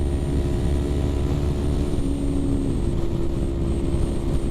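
Kawasaki Ninja 250R motorcycle ridden in fifth gear, a steady, loud engine drone mixed with heavy rushing wind noise at a constant pace, with no speech.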